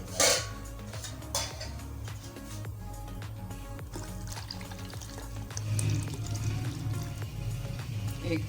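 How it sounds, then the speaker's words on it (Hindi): Milk pours into a pot of tea brewing with tea leaves and sugar on the stove, a soft, steady liquid splash with faint bubbling and the clink of a pan, quiet and close. "फिर हम इसमें दूध डाल देंगे।"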